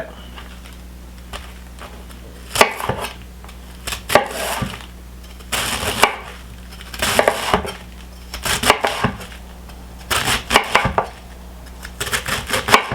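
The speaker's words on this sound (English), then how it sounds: "Cut up these other pieces of leaves." A knife chops cabbage leaves on a cutting board in a home kitchen, with bursts of sharp, rapid cuts in clusters separated by short pauses, close and fairly loud.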